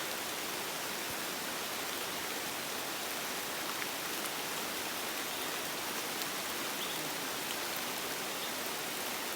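Steady, dense heavy rain hisses loudly and evenly in a dense forest, a continuous wash of falling water with no voices.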